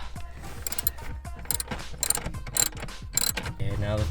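A wrench turns out a 12mm bolt on a Lexus IS, giving quick ratcheting clicks in rapid bursts, close and fairly quiet, with brief pauses and a final metallic rattle.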